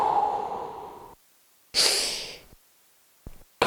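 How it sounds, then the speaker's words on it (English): During a core workout, a single deep, forceful breath in rushes close to the mic after a brief silence, followed by a short quieter breath sound. "breathe in."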